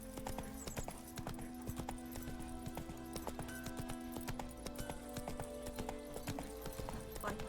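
Roach, a horse in The Witcher 3 video game, trots with steady rhythmic hoof clip-clops throughout, close and loud over a humming game soundscape, with a faint whinny and light background speech.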